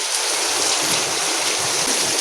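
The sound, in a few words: heavy rain falling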